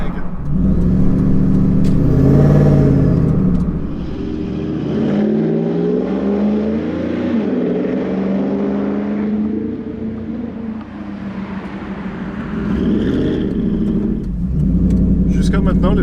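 Supercharged V8 engine of a Ford F-150 Lightning pickup, over 20 years old, revving loud and close with deep rumbling swells, under continuous talk.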